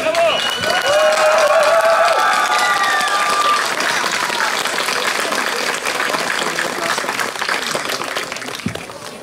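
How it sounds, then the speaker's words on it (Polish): Audience at a Balkan folk festival concert breaks into loud sustained applause and clapping, with a crowd murmur and a brief held voice or whistle early on, fading slightly toward the end. "Jeszcze raz brawa"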